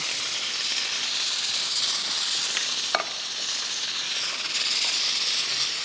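Water poured into a hot pot of cooking Lahori hareesa, a loud continuous hissing sizzle with a brief clank partway through.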